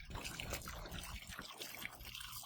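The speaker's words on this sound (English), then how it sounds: "This waterfall is so beautiful." A waterfall in a botanical garden in Oshawa trickles and splashes, a faint continuous watery rush heard from a short distance with no voices.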